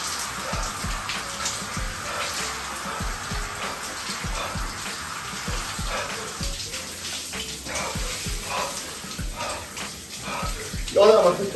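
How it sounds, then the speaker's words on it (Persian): Ice-cold shower water runs steadily overhead, a close, continuous splashing hiss with small irregular patters, while a voice briefly breaks through near the end. "بچه من چون هفته دومه 30 ثانیه باید زیر دوش آب یخ باشم."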